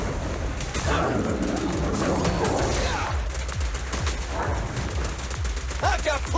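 Rapid gunfire in the video game Zenless Zone Zero, a dense run of shots heard amid busy game effects and music, loud and close, with a voice talking over it.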